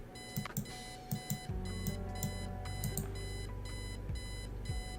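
A video game alarm clock in Kathy Rain goes off with rapid electronic beeps in repeating bursts, first alone and then over a low sustained tone, steady and insistent throughout.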